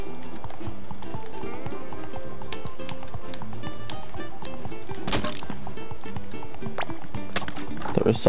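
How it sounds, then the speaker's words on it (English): Rhythmic clip-clop of horse hooves at a steady gallop in the video game SpongeBob SquarePants: The Cosmic Shake, with an occasional whinny and a voice speaking over it. "Do you think if I ride this horse down that way"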